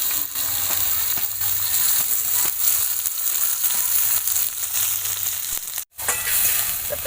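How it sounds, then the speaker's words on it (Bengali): Finely chopped onion and nigella seeds fry in mustard oil with a dense, even hiss and crackle close by, a few faint stirring knocks, and a brief cut-out just before the end. "তেলের মধ্যে দিয়ে দেব কালো জিরে, দিয়ে দেব পেঁয়াজ কুচি।"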